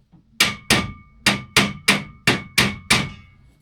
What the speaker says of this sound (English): The hammer helps.